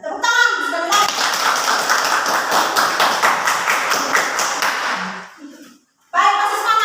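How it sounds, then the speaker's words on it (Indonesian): A classroom of children claps in quick rhythmic hand clapping for about four seconds. The clapping fades out into a short silence, then voices resume. "Tepuk tangan, bisa dilihat."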